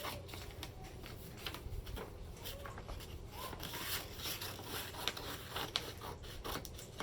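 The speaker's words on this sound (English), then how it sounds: "I'm gonna trim the excess that I don't need" Scissors trim excess material for a 3D heat press shirt, producing a quiet run of crisp snips and rustling scrapes close by, with a couple of sharper clicks near the end.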